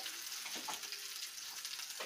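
Food fries in a pan with a steady, faint sizzle and crackle, small pops scattered through it, close by and without talk.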